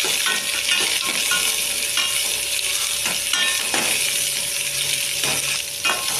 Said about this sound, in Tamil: கருவேப்பிலை, வெங்காயம் ஒரு 10 சின்ன வெங்காயம் நல்லா வதக்கிக்கலாம்.